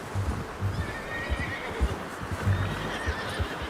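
A horse in the video game Red Dead Redemption neighs and whinnies, with clip-clop hoof thuds and snorts mixed in, fairly close and moderately loud over a steady ambient background.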